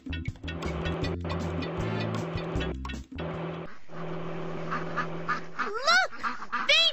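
Cartoonish duck quacks chirp out near the end over a busy, bouncy music track in a Dora the Explorer video game, several short rising calls in quick succession.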